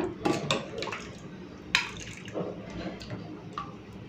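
Thin masoor lentil dal ladled onto a plate of hot rice, giving a few soft wet drips and squishy pours against a faint clink of a serving utensil.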